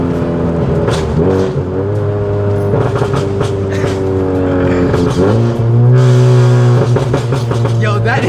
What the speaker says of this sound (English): yo, that exhaust is crazy